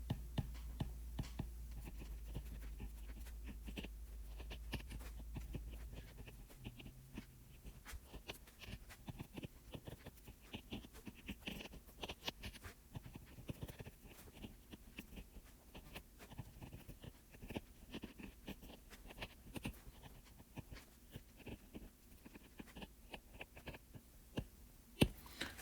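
Pen strokes scratch across paper in steady, faint bursts and taps as an explanation is written out by hand, running continuously with no talking.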